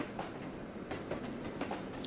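Train running along the main line in a railway simulation game, with a steady rolling rumble and faint rhythmic clatter of wheels over rail joints throughout, no talk.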